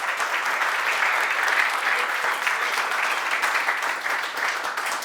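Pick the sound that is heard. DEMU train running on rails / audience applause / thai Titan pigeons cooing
audience applause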